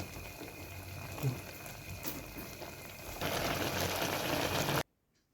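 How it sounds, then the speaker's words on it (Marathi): A pot of lemon and green chili pickle boils steadily, a close, even bubbling hiss that swells slightly, then stops abruptly near the end. "चांगलं हे उकळलं आहे लोणचंही चांगलं शिजलं आहे"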